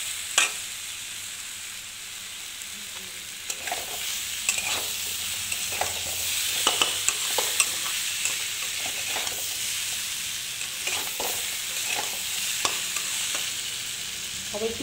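Taro (kochu) being fried in a pan before water goes in for a fish curry: a steady, close sizzle with intermittent stirring scrapes and clicks throughout, no talking.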